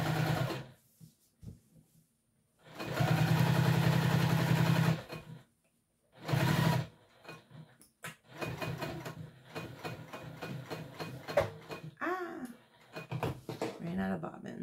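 A sewing machine runs a long basting stitch along a T-shirt seam in two bursts, one steady run of about two seconds and a shorter one, followed by close talking and light handling noises.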